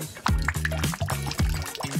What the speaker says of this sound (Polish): Przygotuję miskę z wodą i wleję do niej lakier.